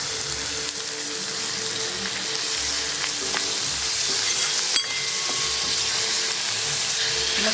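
Tomatoes sizzle and fry in a hot pan for pithal, a steady dense hiss with a few faint clicks of stirring, fairly loud and continuous with no talking.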